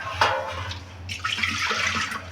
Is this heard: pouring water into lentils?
yes